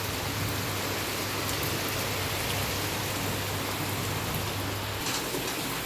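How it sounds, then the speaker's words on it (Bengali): Heavy rain pours down in a dense, steady hiss that never lets up, close by and without any voices. "আর দেখো কি জোর বৃষ্টি হচ্ছে।"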